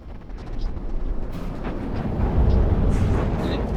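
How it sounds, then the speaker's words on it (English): Advanced cannons fire aboard a warship in the naval combat game From the Depths, producing a heavy, continuous rumbling roar with a few sharper blasts, loud and building slightly toward the end. "the advanced cannon sort of blows this up most of the time"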